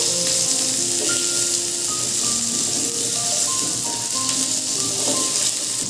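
Pieces of hog plum (amra) fry in hot oil for a sweet-sour chutney, giving a steady, loud, close sizzle that holds at an even level throughout, with faint scraping stirs mixed in.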